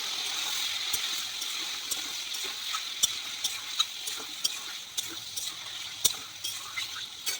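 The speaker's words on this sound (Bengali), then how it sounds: "দিয়ে মাংসটাকে ভালোভাবে ভেজে নেবো।" Chicken pieces frying with salt and turmeric in a pan, a soft steady sizzle broken by repeated clacks and scrapes of stirring, fairly quiet and close, no speech.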